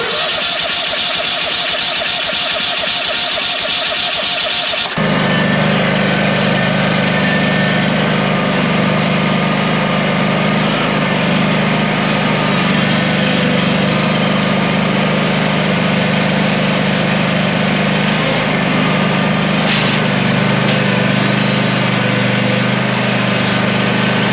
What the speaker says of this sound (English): Maybe rev it up all the way with a choke.